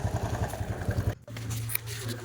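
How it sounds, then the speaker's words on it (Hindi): A motorcycle engine near a temple sputters through a brief pause, then settles into a steady low idle hum, close by with no talk. "हस्बैंड मोटरसाइकिल स्टार्ट कर रहे थे अपना"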